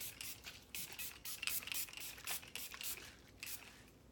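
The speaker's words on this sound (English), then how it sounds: "So as it's cooling, you're gonna wanna put your hairspray in." Hairspray misted onto freshly curled soft waves as the hair cools, a soft hissing spray in several short bursts, fairly quiet and close, with no talking.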